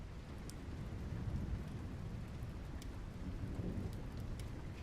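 Steady rain falls through a thunderstorm while low thunder rumbles and rolls beneath it, continuous and moderately distant, with no talking.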